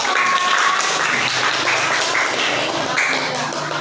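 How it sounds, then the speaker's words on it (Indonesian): Applause from a group of students in a classroom, a dense steady patter of many hands that holds at an even level for the whole span, with a faint voice mixed in underneath. "tepuk tangan buat kelompok"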